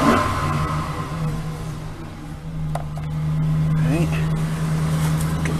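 2009 Chevrolet Silverado with a 4.8 liter V8 starting cold in freezing weather, the engine catching and settling into a steady, rough, high idle with a constant hum, close by.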